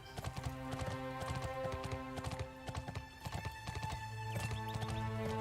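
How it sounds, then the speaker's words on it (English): In the video game Bless Online, hooves clip-clop in a quick galloping rhythm over a sustained tonal music bed, with a horse whinnying briefly. "Horse run."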